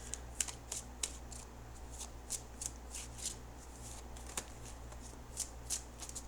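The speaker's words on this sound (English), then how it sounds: "Okay, I'm going to cut the cards." Tarot cards are handled, shuffled and cut close by, producing quick, irregular crisp riffles and slaps against a quiet background.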